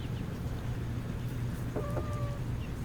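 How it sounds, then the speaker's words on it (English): Chickens cluck softly at a distance over a steady low rumble of background noise, with a brief higher call near the end. "Chickens we got plenty of."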